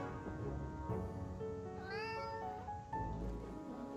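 Cat in the video game Ravenous Devils gives several clear meows, one rising and falling in a drawn-out wavering call, over quiet game music and ambience.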